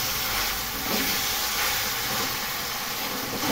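Soy sauce and tomato sauce hit a hot pan and give a loud, steady hiss of sizzling steam that swells slightly partway through. No one speaks.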